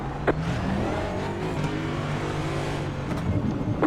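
A NASCAR Cup Series race car in the iRacing simulator at Gateway, its engine holding a steady, loud, droning roar at speed throughout, with faint engine notes from other cars blended in.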